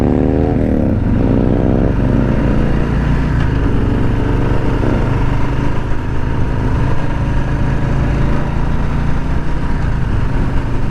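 A 2020 Harley-Davidson Street Bob with ape-hanger bars rumbles steadily on a test ride, its loud engine drone close and constant as it accelerates and holds speed.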